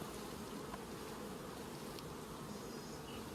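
Honey bees from a farmed hive colony, with drones, queen and workers, make a steady, dense buzzing hum close by that stays continuous and unbroken.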